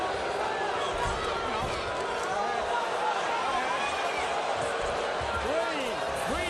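An arena crowd at the 2024 NCAA wrestling final, 174-pound bout between Penn State and Ohio State, keeps up a dense, steady murmur and groan beneath a commentator talking throughout.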